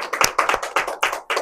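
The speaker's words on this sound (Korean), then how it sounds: "박수 한번 쳐보세요." A small group of people at a gathering claps in a ragged, slightly uneven rhythm, about seven distinct close claps spaced across a second and a half.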